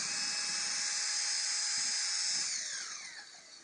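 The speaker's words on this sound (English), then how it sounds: "So now I will take a drill and make some holes inside of this." A power drill bores holes into a board for a homemade electrical matching game, a steady high whirring hiss held close and loud, then winding down and fading near the end.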